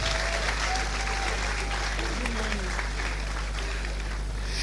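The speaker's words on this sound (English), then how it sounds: "may we once again give her a round of applause." An audience at a secondary school speech and prize-giving day applauds steadily, a dense continuous clatter of many hands held at an even level throughout, with faint voices mixed beneath.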